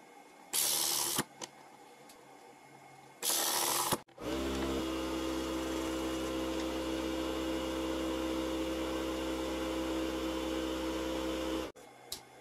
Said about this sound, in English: Next, I spot welded two pieces of stainless steel.